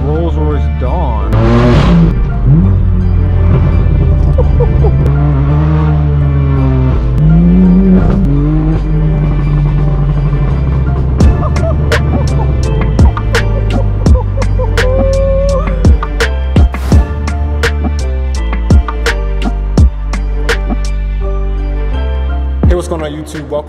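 A straight-piped BMW M4 F82 barks and revs loudly up close, with rising and falling engine pitch sweeps, sharp crackles and pops on lift-off, and a steady heavy exhaust drone between pulls.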